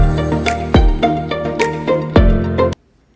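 A KakaoTalk violin version ringtone, a short melodic phrase of swelling bowed notes with plucked accents, playing clearly and then stopping abruptly into silence.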